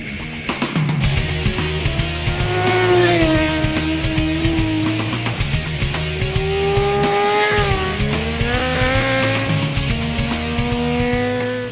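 A Suzuki GSX-R race motorcycle with a Yoshimura full race exhaust, Pizzazz Performance fuel module and quick shifter screams loudly around a track, its engine pitch rising and dropping through quick gear changes.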